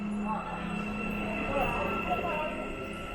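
A metro train hums at a station, a steady low rumble and drone with faint squealing tones under quiet background murmur.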